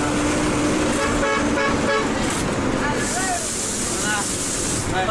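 A bus horn honks loudly several times in short blasts while the vehicle speeds along a rough, damaged road between Labuan and Kalideres, over steady engine and road noise with voices talking.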